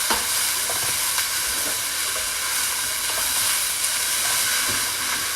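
Onions browning in a pan for marinara sauce, stirred around with a steady broadband sizzle and hiss that holds even throughout, close and fairly loud with faint scraping touches.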